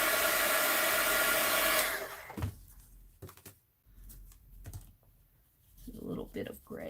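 A heat tool blows hot air onto paint on an artwork, a steady loud whoosh for about two seconds before it cuts off, followed by quiet handling clicks and taps.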